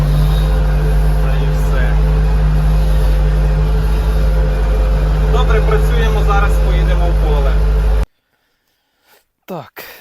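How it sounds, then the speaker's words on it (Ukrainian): A Zarya lawn mower engine runs steadily and loudly nearby on a home garden plot, its droning hum continuous for about eight seconds before cutting off abruptly, followed by faint brief handling noises. "Косілка працює тихіше, подобається мені."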